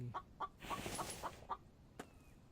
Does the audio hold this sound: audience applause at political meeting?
no